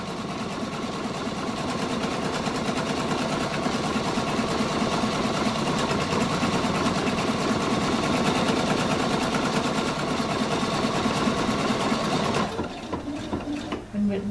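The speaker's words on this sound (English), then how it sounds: "this stitch stitches out relatively fast" A Pfaff Quilt Expression 720 sewing machine stitches at speed, a fast, steady mechanical whir and rapid needle chatter running close and loud for about twelve seconds before stopping, with a voice talking over it.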